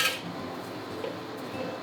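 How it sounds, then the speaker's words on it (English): Radish strips stir-fried in a dry pan over low heat make a steady close scraping sizzle, with a sharper clatter of utensil on metal at the start and no talk. "And just keep stir fry."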